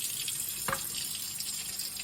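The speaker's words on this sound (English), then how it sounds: "you give this a good wash out. So I will wash it out completely." Running tap rinsing out a part of a Shark HydroVac cordless hard floor cleaner, a steady close water hiss with a brief splash.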